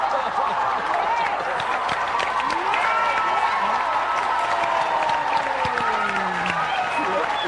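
Steady applause from a church congregation at a Korean Wednesday prayer meeting, dense and continuous throughout, with voices calling and talking over the clapping.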